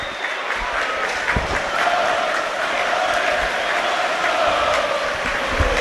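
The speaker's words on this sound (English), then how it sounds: "The York City fans in front of us here applauding." York City football fans applaud in a stadium during a National League match against Scunthorpe United, a steady wash of clapping from a large crowd with a distant murmur of voices underneath.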